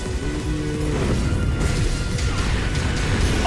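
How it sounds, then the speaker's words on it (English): A meteor rain attack in Final Fantasy XIV, heavy crashing impacts and rumbling bursts over a mechanical whir, growing louder and denser as the strikes land, with no speech. "Meteor rain."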